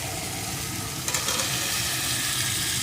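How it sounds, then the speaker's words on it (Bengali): Fried potatoes and peas are sautéed with spices in a pan for a vegetarian potato dum, making a loud, continuous close sizzle with a brief stirring clatter partway through and no speech. "আলুগুলো সব কিছুর সাথে একটু কষিয়ে নেব"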